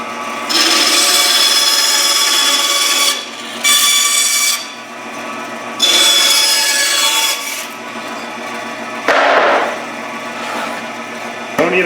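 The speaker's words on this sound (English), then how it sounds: "Now all I gotta do is just rip it a little bit on the bandsaw." Bandsaw rips a piece of wood for a tapered Conibear trap box in two loud, steady cuts of a few seconds each, with a quieter idle whir between them and a short rasping burst near the end.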